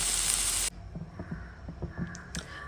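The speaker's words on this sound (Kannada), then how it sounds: "ಸೊ ಸೇಮ್ ಪ್ಯಾನ್ಗೆ ಇನ್ನೊಂದು ಸ್ವಲ್ಪ ಆಯಿಲ್ ಹಾಕ್ಕೊಂಡು ಈಗ ನಾನು ಪನ್ನೀರ್ ಫ್ರೈ ಮಾಡ್ಕೊಳ್ತಾ ಇದ್ದೀನಿ" Paneer cubes shallow frying in a little oil in a pan: a loud hissing sizzle that cuts off abruptly, then quieter crackles and light taps before a faint sizzle returns.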